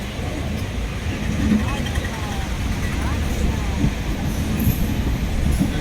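A passenger train crossing a bridge over the Krishna River, rumbling steadily with a dense, continuous roar and rattling wheels, metallic squeals rising now and then, and voices talking faintly beneath.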